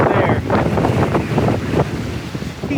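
A strong gust of wind sweeps across open water, roaring loudly against the microphone with buffeting bursts over the wash of waves, easing slightly toward the end.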